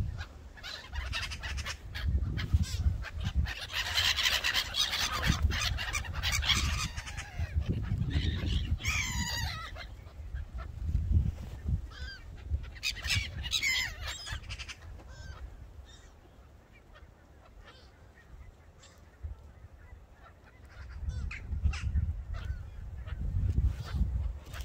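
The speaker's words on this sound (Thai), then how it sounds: "ห่านกำลังมานะคะทุกคน" Geese honking and squawking outdoors, loud bursts of overlapping honks coming and going over several seconds, with rustling and a quieter stretch before the calls return.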